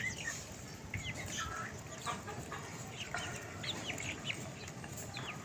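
Hens with chicks clucking on a house rooftop, with soft, scattered clucks and chirps over a low background hum, faint and somewhat distant.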